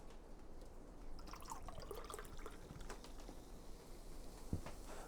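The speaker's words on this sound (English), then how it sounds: "let's go and pour some of the soda limonada in" Soda limonada trickles and splashes softly into a glass, a faint, close pouring with scattered drips and a small clink near the end.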